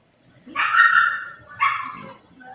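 A dog barks in two bursts, fairly close and loud, with a short pause between them and no talk.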